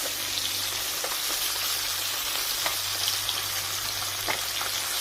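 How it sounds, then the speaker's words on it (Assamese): Fish sizzles and crackles steadily in hot oil in a frying pan, a close, continuous hiss broken by small pops and occasional spatters, with no one speaking. "মাছ ভাজি আছোঁ ধুনীয়াকৈ"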